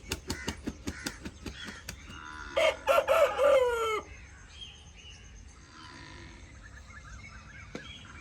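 A rooster crows loudly once after a run of rapid clucks in an early-morning Pakistani village, then a quieter hen-like murmur and distant fowl sounds continue in the background.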